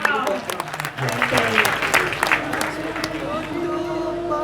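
An audience at a wayang kulit shadow-puppet performance claps in a dense wash, with gamelan tones and voices mixed in under the applause.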